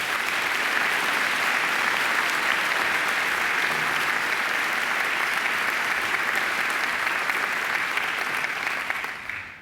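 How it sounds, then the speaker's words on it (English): Steady, dense applause from a large audience fills a university graduation ceremony at Macquarie University, sustained clapping without breaks that begins to fade only at the very end. "I think she deserves another great round of applause."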